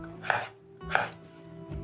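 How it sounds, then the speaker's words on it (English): Two crisp knife chops through potatoes strike a cutting board about half a second apart, with a softer third tap at the end. "you only need a chopping board and a knife to cut your potatoes into chips"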